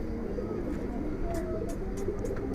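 Record-holding loft pigeons on a Dhaka rooftop coo in a steady, layered murmur close by, with several soft calls overlapping throughout.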